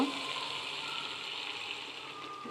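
Water goes into a pan of Bengali katla fish kalia curry, raising a steady, close hiss of sizzling oil and bubbling liquid that holds evenly throughout, with no talking.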